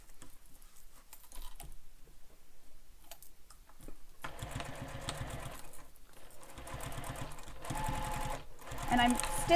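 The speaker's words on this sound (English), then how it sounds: "I'm stitching directly on top of those stitches." Sewing machine stitching a backpack seam, its rapid mechanical chatter starting quietly with a few bursts, then running steadily and louder over the back half, close by with a voice talking.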